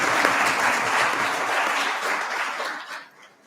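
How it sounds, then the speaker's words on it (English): Sustained audience applause for a panel on stage at a civil society and think tank forum, dense steady clapping from a crowd that holds for about three seconds before thinning out and fading near the end. "can I please get a huge round of applause for our team on the stage"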